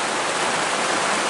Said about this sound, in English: the rain has come. We're all being nice and cozy in here underneath this trapal.